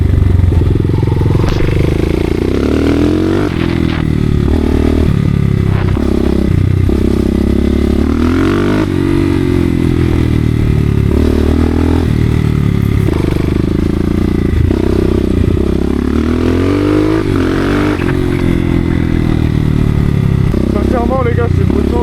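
A 300cc motorcycle rides along a path, its engine droning loudly and steadily with shifting pitch and clattering, while someone talks over it close to the microphone throughout.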